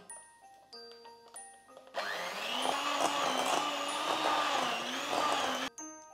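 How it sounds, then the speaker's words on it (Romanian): An electric mixer beats room-temperature butter with sugar and a pinch of salt in a bowl, starting after a short pause and whirring steadily and loudly for several seconds before cutting off abruptly. "batem 150 de grame de unt la temperatura camerei cu 220 de grame de zahăr"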